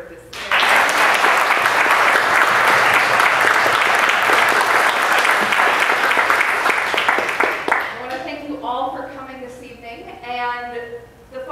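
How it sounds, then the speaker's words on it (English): An audience at a science panel event breaks into sustained applause, loud, dense clapping that holds for several seconds, then fades out as a voice starts speaking. "let's first of all clap for this"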